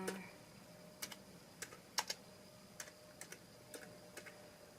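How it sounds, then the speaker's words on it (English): Typing on a computer keyboard during a Kano coding tutorial: sparse, separate key clicks, often in pairs, fairly quiet against a steady hum. "we're going to type background blue"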